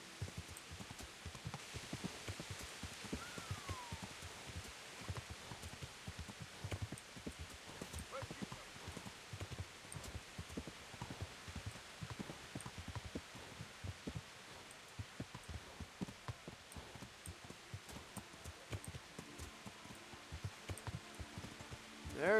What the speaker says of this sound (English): I need the horse to move with a purpose